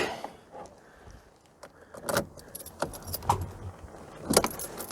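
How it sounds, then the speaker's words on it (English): Keys jangle and turn in the ignition of a classic Mini Clubman, a few sharp metallic clicks and rattles close by in a quiet car interior, with no talking. "Ignition's working, that's a good start."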